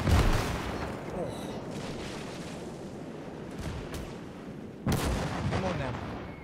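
Mortar fire in the war video game OstFront: deep booming blasts, one loud at the start and another near the end, over a rumbling battlefield din, with a voice speaking at times.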